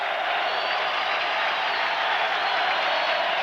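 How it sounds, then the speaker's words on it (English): An indoor arena crowd at the 1989 Major Indoor Lacrosse League championship game cheers and applauds after a goal, a loud, continuous roar of clapping and cheering without a break. "And the crowd begins to respond here."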